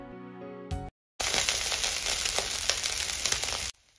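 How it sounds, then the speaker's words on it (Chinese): Yangzhou fried rice with scallions stir-fried in a wok over fierce heat, a steady loud sizzle with scraping and tossing crackles for about two and a half seconds after a brief musical intro and a moment of silence. "然后快速的用大火翻炒均匀，炒出锅气"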